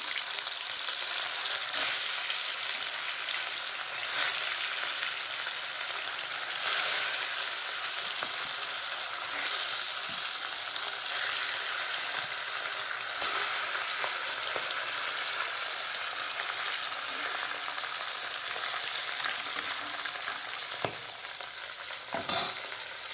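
Rohu fish pieces rubbed with salt and turmeric fry in hot oil, a loud, dense, continuous sizzle and crackle with occasional faint taps of a utensil, no talking.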